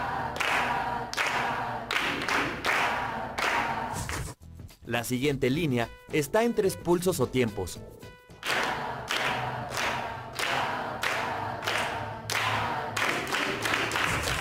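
Rhythmic hand clapping in a music lesson for secondary students: steady claps in beat patterns. A spoken instruction in Spanish briefly interrupts mid-sequence before the clapping picks up again.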